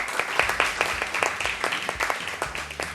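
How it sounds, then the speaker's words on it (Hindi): An audience at an indoor event celebrating a banking-exam success applauds. The claps come as a brisk, irregular patter of many hands, steady and fairly close, and a low voice can be heard faintly beneath the clapping near the end. "प्लीज तालियां."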